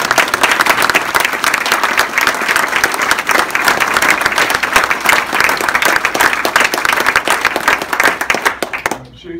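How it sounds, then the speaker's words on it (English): A room of staff gives sustained applause for Jennifer Tidball at a MO HealthNet Division team gathering, dense and loud for about nine seconds before cutting off abruptly at the end. "Jennifer deserves a round of applause"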